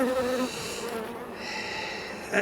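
Honeybees, a calm Buckfast strain, buzz around opened hives in a small apiary, a close, continuous droning hum with wavering pitch as individual bees pass near.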